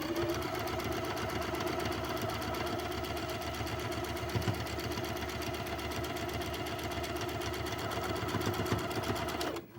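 Sewing machine running continuously as quilt pieces are joined with a quarter-inch seam, a close, even, rapid mechanical hum and needle chatter that stops abruptly at the end.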